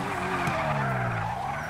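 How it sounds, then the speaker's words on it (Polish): Continuous tire squeal from cars skidding sideways while drifting in GTA 5 on PC, a loud sustained screech with sliding pitch over engine drone, no talking. "Te samochody za bardzo się tutaj ślizgają"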